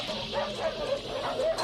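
A dog in The Thing (1982) barks and whimpers in short yips and whines, a steady run of close, fairly loud vocalizations with a faint voice underneath.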